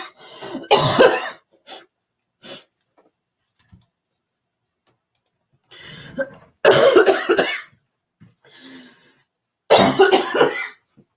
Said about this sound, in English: We're all coughing and dying over here